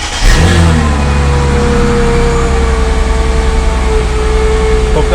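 A Chrysler Crossfire engine cold-starting on E85 fuel, catching with a loud rev and then settling into a steady, high idle with a rising whine, close by and alone.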